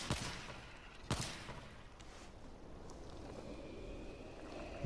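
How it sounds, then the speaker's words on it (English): Gunfire from a weapon in World War Z on PS4 sounds as two sharp, separated shots that ring out against a faint, quiet background of ambient game noise, with no talking. "This gun, 2 shots to the body, sometimes 1 shot."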